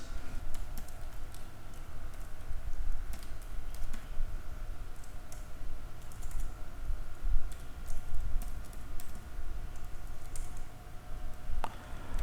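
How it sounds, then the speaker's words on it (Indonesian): Typing on a computer keyboard while entering data in Microsoft Excel, producing a steady stream of close, light key clicks with occasional sharper taps over faint background hum. "Lalu kita ketikkan nama."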